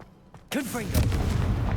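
A spell blast in Hogwarts Legacy, a sudden loud explosive burst after a quiet start that rumbles on, with a voice speaking over it.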